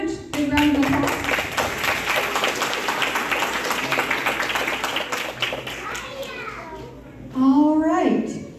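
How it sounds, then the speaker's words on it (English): Steady applause from a crowd fills the room at an elementary school first grade awards ceremony, with children's voices chattering underneath as the clapping fades near the end. "Big round of applause."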